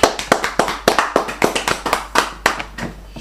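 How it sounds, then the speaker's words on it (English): Church congregation clapping for Jesus in a steady rhythm, a run of loud, sharp, evenly spaced claps close by, with no talking. "Clap for Jesus."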